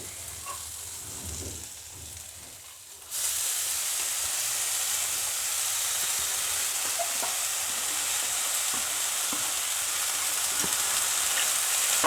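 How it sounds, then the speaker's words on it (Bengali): Chickpea greens hit spiced oil for a fish-head dish: after about three quieter seconds, a loud, constant sizzle and hiss bursts out and continues close up. "এখন আমি শাকটাকে এর মধ্যে দিয়ে ভেজে নেব।"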